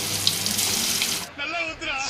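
Water pours steadily from a tap into a vessel, a close, loud splashing rush that shifts to a gurgling, bubbling fill partway through.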